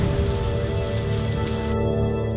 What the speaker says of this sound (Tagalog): Pero ibang usapan na kapag malakas ang ulan.